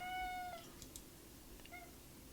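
A cat gives several short meows and chirps of moderate loudness over a steady background hum, with no talking.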